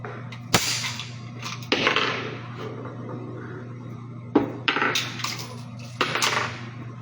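Several sharp video game gunshots crack out, one early, another a second later, then a cluster near the end, over a steady electronic hum.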